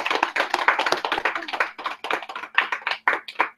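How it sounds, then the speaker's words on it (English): An audience claps in a quick, uneven patter of sharp hand claps that keeps going steadily, fairly close, with no voices over it. "Clap it up."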